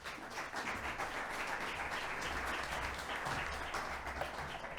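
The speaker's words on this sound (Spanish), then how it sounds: "Lourdes, un aplauso, por favor." A conference audience applauds an opening speaker at a business and artificial intelligence forum in Vigo, a dense, even crowd clapping that holds steady throughout at a moderate level in a large hall.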